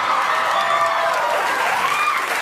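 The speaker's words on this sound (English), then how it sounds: "they're doing like the cheering as if the audience knows who these people are" A studio audience cheering in a TV episode, a continuous loud wash of whoops and applause with no breaks.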